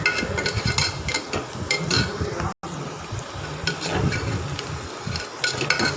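Steady, close sizzling fills the pan as ingredients are sautéed in oil for a mutton gravy, with scraping stir strokes over the frying and one brief dropout partway through.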